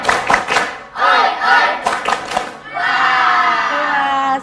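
A crowd of children at an Islamic religious talk performs a rhythmic clapping chant, sharp claps in quick bursts mixed with loud group shouting and cheering, ending in a sustained collective yell.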